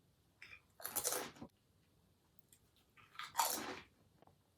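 Two loud, close crunches of cheese and onion flavoured crisps being bitten, each about half a second long with a pause between, followed by softer chewing.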